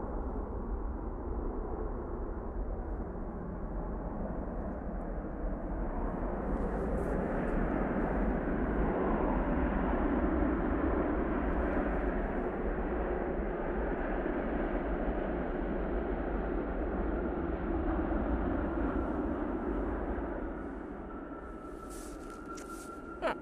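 An airliner in Chinese peony livery touches down at a snowy Manchester Airport, a broad, steady engine and runway roar heard from a distance that swells slightly and then eases off near the end.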